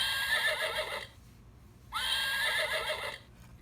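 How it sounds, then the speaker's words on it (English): A horse neigh sound effect from a farm animal puzzle toy plays twice, each a bright, wavering whinny lasting about a second, separated by a short quiet gap. "Let's hear what the horse says."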